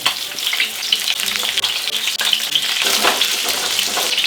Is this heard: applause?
no